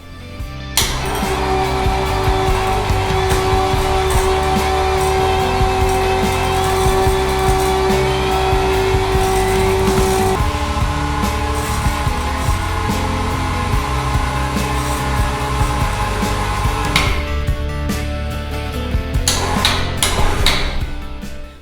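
A budget electric hoist lifts about 150 pounds of brake rotors, its motor whining and cable winding with a slightly crunchy grind that runs steadily for most of the stretch before stopping near the end.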